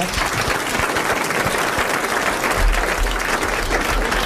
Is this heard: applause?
yes